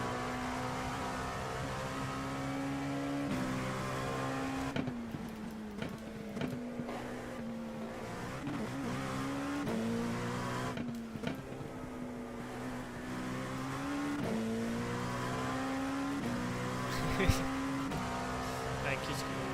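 Race car engines at Sebring in the iRacing video game, a steady loud drone rising and falling with gear shifts and throttle changes, with voices talking over it.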